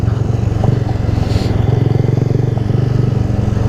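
Honda Grom motorcycle engine held steady in second gear while riding, a loud, close, continuous pulsing drone with a fast, even beat and faint wind rush.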